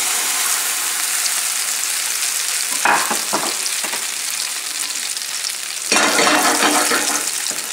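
Haddock fillet laid skin side down into hot extra light olive oil crackles with a steady, bright sizzle, flaring louder in short bursts near three seconds and again near six seconds as the fish settles and spits.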